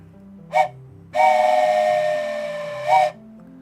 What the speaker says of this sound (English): we added a train whistle, so Guardian of the Moon has redeemed a trai